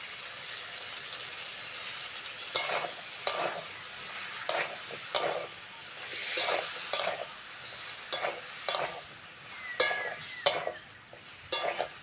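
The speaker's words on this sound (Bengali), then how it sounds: "সব মশলাগুলো কষে নিলাম, গাদালি থেকে দারুণ তেল বার হচ্ছে আর মশলা থেকে তেলও ছেড়ে দিয়েছে" Spices stir-fried in oil in a pan in a village kitchen (turmeric, salt, gadali paste, cumin and ginger paste): soft steady sizzle broken by repeated scraping spatula strokes, close and moderately quiet, no voices.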